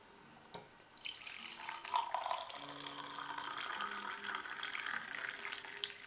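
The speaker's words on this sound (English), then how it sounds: "now if my assistant will pour some coffee in it" Coffee pours steadily into a heat-reactive Audubon bird mug, a bright splashing trickle that starts after a second and continues throughout, with faint tonal sounds underneath.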